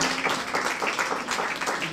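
Brief applause from a church congregation during a worship service, moderately loud, steady patter of clapping with a little voice underneath.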